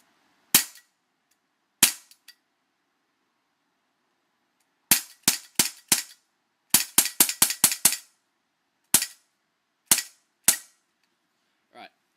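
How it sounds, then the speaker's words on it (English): Walther CP99 Compact airsoft pistol firing roughly a dozen sharp snapping shots, first spaced out, then a rapid burst of six, then a few more evenly spaced, each crisp and close with silence between. "I'm going to go ahead and shoot off a couple of rounds"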